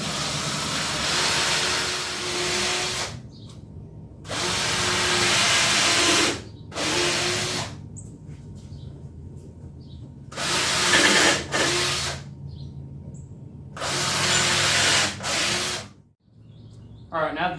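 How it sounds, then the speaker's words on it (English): A power drill pre-drills screw holes in an old wooden workbench, running in five loud, close bursts of a few seconds each, separated by short quiet pauses. "we're going to pre-drill our holes before we put the screws in."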